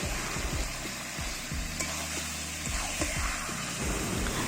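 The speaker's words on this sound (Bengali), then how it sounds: "এইবারে মশলার মধ্যে দিয়ে দেবো মাংসটা দিয়ে একটু নাড়াচাড়া করে" Duck meat is stirred into a frying spice paste for a Bengali duck curry, giving a steady hiss and sizzle broken by repeated scraping and stirring knocks from the pan, with no talking.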